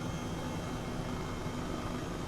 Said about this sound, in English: do feel kind of like a hot shot flying low and fast in a helicopter